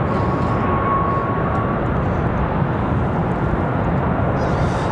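An Avelo Airlines jet moves at Raleigh-Durham International Airport, its engines a loud, constant broadband roar that fills the whole stretch without a break.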